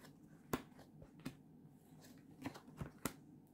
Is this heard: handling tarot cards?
yes